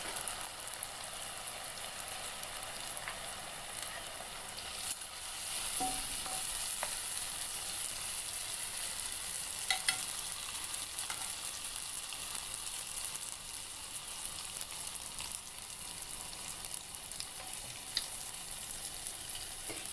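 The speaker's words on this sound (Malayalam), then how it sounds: "ഇത് അച്ചിൽ നിന്ന് വിട്ട് അച്ചപ്പം എണ്ണയിലേക്ക് വീണുകൊള്ളും" Achappam rose cookies frying in hot oil, a steady bubbling sizzle running throughout with occasional light metallic clicks of the mould, close up and unbroken by any talking.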